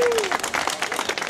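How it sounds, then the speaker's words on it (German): A crowd at the March Against Monsanto protest in Hannover claps loudly and steadily in a brief, dense burst. "kriegt mal der Tobi Kunze einen super tollen Applaus von euch allen."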